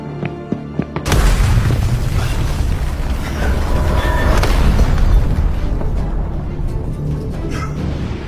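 A bomb explosion in a movie scene, a sudden loud booming blast that erupts after a quiet start and rolls on as a long, dense rumble of debris and noise.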